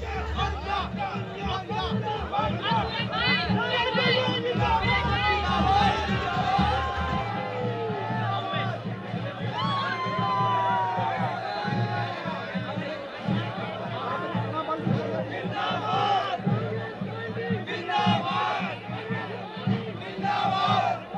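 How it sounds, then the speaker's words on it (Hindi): A large crowd of supporters cheers and shouts at an election result for Ward 13, a dense, continuous roar of voices with rising whoops and chants, loud and close throughout. "ये देखिए इतनी भीड़ है,"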